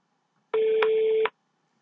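A telephone keypad tone sounds as an emergency number for the French police is dialed: one steady, clear electronic tone lasting under a second, alone in a quiet room.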